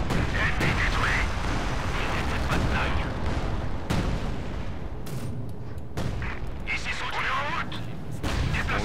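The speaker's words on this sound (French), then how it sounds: "Lancez un barrage d'artillerie légère." A light artillery barrage pounds away in the World War II strategy game Company of Heroes 2, with repeated heavy booms and sharp gunfire cracking over a continuous rumbling battle din, some impacts close and loud, others more distant.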